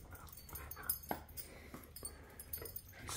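A dog whimpers and whines in soft, uneven bursts, fairly faint and close, with some panting-like breaths in a quiet room.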